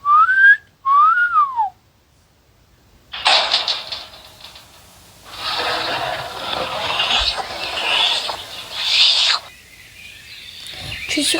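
Low whistling in a video game, with clear pitch-sliding whistle calls near the start, then a stretch of busy, broadband game ambience and effects that continues loudly through most of the remainder.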